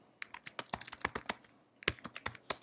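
Typing on a computer keyboard: a brisk, irregular run of close, crisp key clicks with a short pause midway, then more quick taps.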